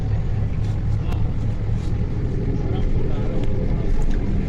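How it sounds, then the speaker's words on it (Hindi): Steady low engine rumble heard from inside a moving Karachi Green Line bus, continuous and fairly loud, with a person talking over it throughout. "पीछे जो मेरे आपको एक अजीब सी इंजन की आवाज़ आ रही होगी"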